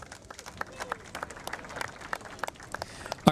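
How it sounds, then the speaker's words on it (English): Scattered outdoor clapping from a modest crowd at a surf competition finals day at Sunset Beach, Oahu, sparse and uneven hand claps over a light background murmur. "Give a round of applause for all the support for this great event."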